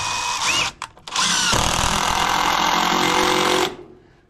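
A power drill drives screws into a block on a mobile home bathroom floor repair, whirring loud and close after a few short stuttering bursts, then running steadily for about two seconds before winding down.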